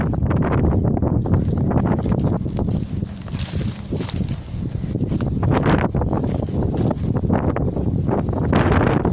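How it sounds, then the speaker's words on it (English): Strong wind buffets the microphone on a countryside walk, a steady loud rushing roar with gusty surges throughout and no clear speech. "I can feel the wind at my back totally kind of pushing me forward."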